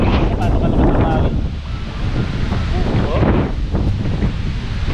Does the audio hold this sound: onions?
no